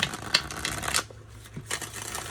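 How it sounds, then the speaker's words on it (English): A bendy-cardstock tarot deck being shuffled up close, with a quick riffle of flicking cards, a brief pause, then another softer run of rapid card flutters. "Like, I really like shuffling this"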